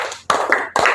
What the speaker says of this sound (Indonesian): kita berikan 3 tepukan tangan.